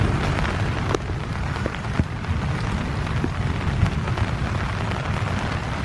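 Heavy rain on a thunderstorm night during a bikepacking trip in Australia, a dense continuous patter and hiss with faint low rumbles and occasional sharper drops, close and steady, no voices.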